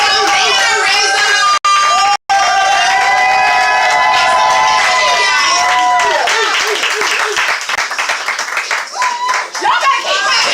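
A crowd at a Hot Sauce Poetry open mic show claps, cheers and whoops loudly, the noise thick and sustained with shouting voices mixed in, briefly cutting out near the start.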